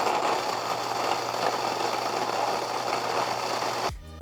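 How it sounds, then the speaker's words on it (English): A Fellow Ode coffee grinder grinds beans with a steady, close motor whir and low hum, quiet and even for about four seconds before abruptly winding down and stopping. "This is one of the quietest grinders I've ever heard."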